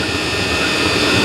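A Chinese diesel heater running on an oil blend gives a steady, loud, close-up roar of combustion and blower air with no break or change.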